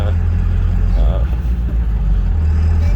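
A 7.3 Powerstroke diesel truck hauls a heavy load in low gear with a deep, loud, steady engine drone close by. Someone talks over the rumble.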